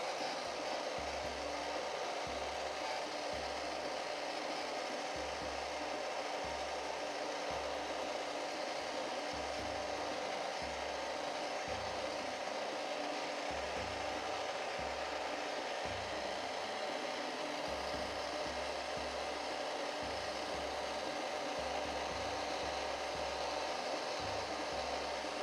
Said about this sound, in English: Oh, the dryer almost didn't even want to start.